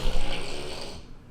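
A voice imitates loud snoring, mocking a knocked-down boxer in the Fury versus Ngannou fight, with rough rasping breaths that stay steady before trailing off near the end.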